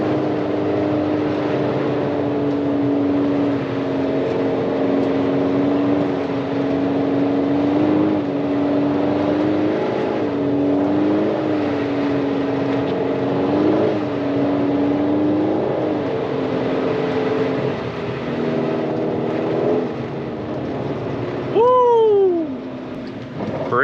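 A car on Nexen Winguard Sport 2 winter tires accelerates up a snowy hill, its engine droning and rising in pitch under a steady road rumble, with a brief change near the end.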